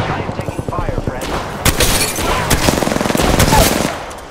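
Rapid bursts of automatic gunfire in the Apex Legends video game, dense rattling volleys and sharp booms close up, with players' voices speaking over the shooting.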